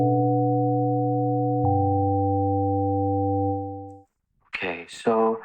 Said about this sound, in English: this is in fact a sine wave and it's playing polyphonically